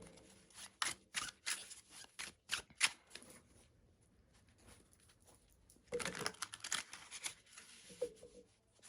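Tarot cards shuffled and handled at close range, a series of quick papery riffles and taps in bursts, pausing, then resuming with a longer shuffle, quiet and with no talking.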